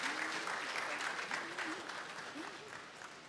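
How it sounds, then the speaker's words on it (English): Conference audience applauding a speaker's story, a steady wash of many hands clapping at moderate distance, with a voice faintly talking over it. "please let's give a warm and resounding applause to Achenio"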